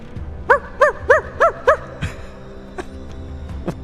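A voice imitates a dog, giving five quick, evenly spaced yipping barks up close, followed by a few faint clicks.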